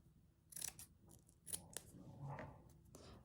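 Scissors snip through a piece of soft lace in a few quick, close cuts with short pauses between them, alone without any talking.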